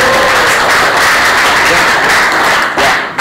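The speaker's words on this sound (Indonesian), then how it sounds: "Beri tepuk tangan dulu dong untuk Alan." A classroom of students applauds a classmate after a chemistry lesson answer, a dense, loud, continuous wash of clapping that fills the whole moment before tapering near the end.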